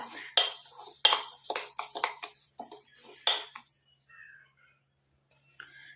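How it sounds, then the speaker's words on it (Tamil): An iron kadai is picked up and handled in a kitchen, making a quick run of metallic clanks and clatters over about three seconds before things fall quiet, with one faint knock at the end. "இந்த மாதிரி ஒரு இரும்பு கடாய் ஒன்று எடுத்துக்கலாம்."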